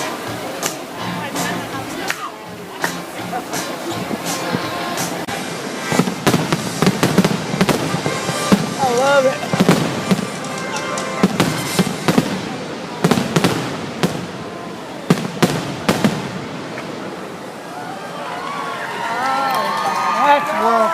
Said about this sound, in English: That's world-class fireworks.